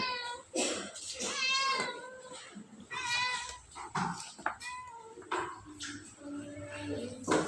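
A cat meowing repeatedly at close range, with several drawn-out, wavering cries and shorter calls in between, over a quiet indoor background.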